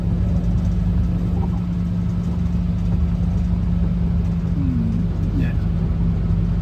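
Hiab rigid truck with a manual 16-speed gearbox driving along, a steady low engine drone and rumble running throughout, close and continuous, with a brief faint tonal squeal near the end.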